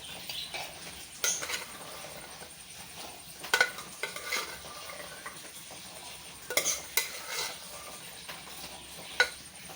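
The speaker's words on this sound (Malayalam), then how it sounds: "ഇനി ഇത് ചട്ടിയിലേക്ക് മാറ്റാം." Boiled white chickpeas are tipped from a pressure cooker into a pan and stirred, giving scattered metallic scrapes and clinks of a utensil against cookware, with a few sharper knocks among faint rustling, fairly quiet and without talk.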